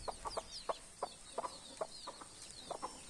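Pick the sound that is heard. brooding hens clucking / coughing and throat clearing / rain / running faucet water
brooding hens clucking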